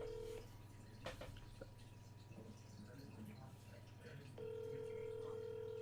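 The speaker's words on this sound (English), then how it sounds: "I'm reaching out, I'm phoning a friend." A telephone call being placed, with a steady dial tone, then a pause while a number is dialed, then a tone again, heard loud and close over a constant low hum.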